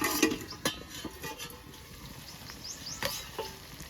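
Chicken pieces frying in a pan as they are browned down with spices, a soft steady sizzle broken by a few sharp clinks and scrapes of a spatula against the pan.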